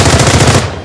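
A loud, rapid burst of machine-gun fire from a film war scene, close and dense, cutting off after under a second.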